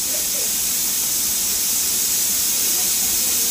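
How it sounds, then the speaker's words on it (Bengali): Lote (Bombay duck) fish frying in very hot oil, a steady loud crackling sizzle that fills the whole stretch without pause and with no talking. "অনেকটা তাপিয়ে ভাজতে হচ্ছে আর কি"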